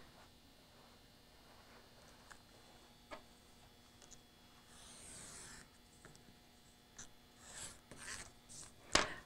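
A PDF sewing pattern being cut with a blade or rotary cutter on a self-healing mat. Faint, quiet scraping and rubbing comes in short strokes, growing a little louder and busier toward the end, with a sharp click near the close.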